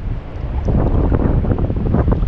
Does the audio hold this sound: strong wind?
yes